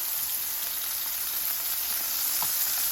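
Food sizzles steadily on a Blackstone flat-top griddle in a little leftover butter, a dense, even hiss that holds at the same level throughout, with no voices over it.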